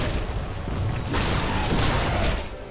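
A whooshing, grinding vacuum ability fires in a Dota 2 match, a dense mechanical rush with a pop near the middle, swelling and sustained amid the game's other effects, with no voices.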